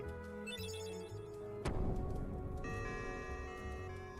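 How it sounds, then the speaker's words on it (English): Shop bell at the Gizmo shop in Kingdom Hearts Final Mix, a bright ringing tone that sounds alone, then sustains with layered chiming partials over soft game music. "The bell at the Gizmo shop is ringing."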